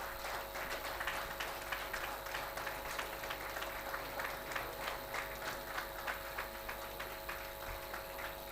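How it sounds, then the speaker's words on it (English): Audience applause at an alumni association annual meeting on stage in Dubai, a steady wash of many hands clapping in a large hall, moderately quiet and continuous with rhythmic accents throughout. "A huge round of applause."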